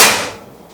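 One loud, close report from a 500cc PCP bullpup air rifle during a speed test, striking at the very start and decaying over a fraction of a second.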